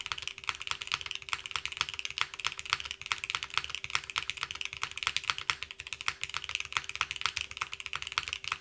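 Steady, close-up typing on a Cerberus FRL TKL mechanical keyboard, a fast continuous patter of crisp keystrokes with no pauses and no voices.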